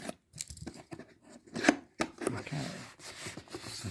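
Blade slicing through the packaging around a Yamaha keyboard's sustain pedal, a few short scraping and tearing bursts close up, the sharpest cut near the middle, amid small rustles and handling noise.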